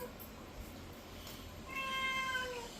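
A house cat meows insistently at mealtime, a series of clear, close tonal cries in the second half rising over a faint room hum, with no talking.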